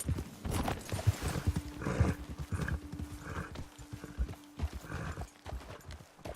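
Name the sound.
horses galloping in Red Dead video game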